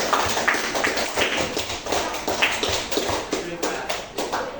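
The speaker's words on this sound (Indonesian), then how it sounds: "Tepuk tangan untuk kelompok 2" Students in a classroom clapping for a group after its presentation, a fairly close, uneven patter of many hands that carries on throughout with slight swells and dips.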